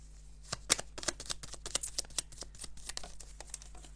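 Tarot cards being handled during a card reading, a quick run of crisp papery flicks and taps that come close and fairly clear, with no talking.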